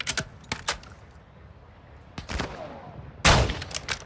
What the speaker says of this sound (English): I hear a sniper.